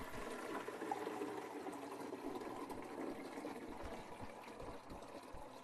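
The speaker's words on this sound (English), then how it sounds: "you'll want to put water in the reservoir." Steady running water poured into the reservoir of a Gaggia Espresso Classic machine, a continuous splashing gurgle at moderate level with no voices.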